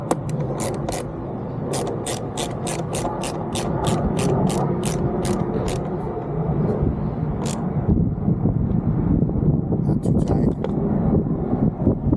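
Screws being driven back into a Can-Am Spyder RT Limited passenger armrest, with a rapid series of sharp ratcheting clicks up close over a steady background hum, later giving way to softer handling noises.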